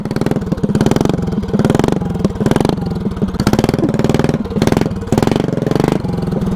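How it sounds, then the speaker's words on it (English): A vertical engine laid on its side and mounted horizontally runs with a belt drive, a loud, steady thumping idle that surges in repeated bursts, up close with no voices. "Surprisingly, the engine is not even smoking, but that belt"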